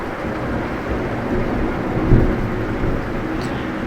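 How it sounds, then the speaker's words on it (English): A thunderstorm roars outside, with steady rain noise and a low rumble swelling briefly midway, continuous and fairly loud with no voices. "you can hear, the storm is kind of loud outside"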